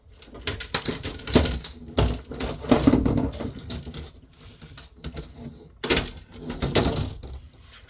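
Plastic edge clips on a Lenovo all-in-one PC being pried open with a screwdriver, a close series of sharp snaps, clicks and scraping cracks in irregular bursts with short pauses.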